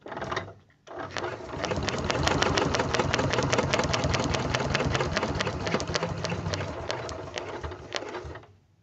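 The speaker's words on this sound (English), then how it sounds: "grab the threads, and just stitch one time around." A sewing machine stitches once around a circular template for a log cabin quilt block, running as a fast, steady mechanical whir after a brief start and pause, close and loud, with no talking.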